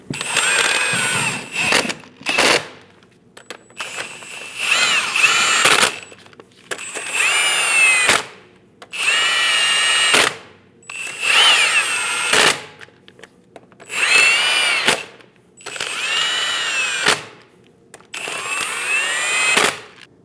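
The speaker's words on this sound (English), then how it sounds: "Snug down all the lug nuts." Impact or power tool snugging lug nuts on a 2001-2006 Chevrolet Silverado 2500 HD rear wheel, loud buzzing bursts repeating in about eight runs of one to two seconds each, separated by short pauses.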